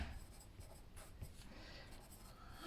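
Pen scratching across paper, soft close strokes in an irregular rhythm of short bursts, quiet and steady, with no talk.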